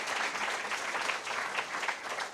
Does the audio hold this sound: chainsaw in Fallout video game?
no